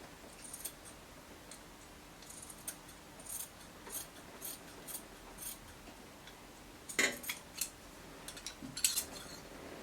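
Scissors snip dress fabric in a quiet room, a series of faint, sparse clicks and cuts spread across the clip, with a small cluster of sharper snips later on.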